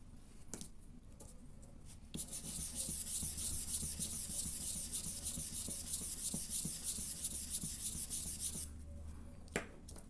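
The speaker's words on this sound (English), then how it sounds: "You can also correct the darker areas with the lighter pencil." A pencil rubs across paper while shading clothing in a drawing, making a soft, steady scratchy hiss that runs for several seconds between lighter, sparser strokes.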